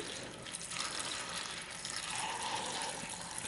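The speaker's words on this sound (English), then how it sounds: "I'll water until this white pot is full." Water pours steadily from a watering vessel into a white pot holding an orchid, a continuous splashing trickle that grows slightly fuller as the pot fills, close and alone without talk.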